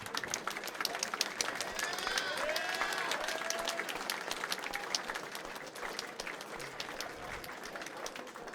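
Sustained audience applause and clapping fills a hall at an esports grand final of a Team Fortress 2 6v6 tournament, broad and steady throughout with a loud crowd texture.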